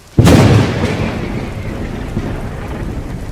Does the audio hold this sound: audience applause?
no